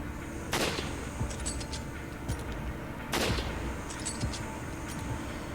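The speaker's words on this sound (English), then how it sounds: "Got 2 headshots on that one." Gunfire in Resident Evil 5 on PS4: two heavy, booming shots about two and a half seconds apart, each followed by smaller clicks and clatter, loud and close.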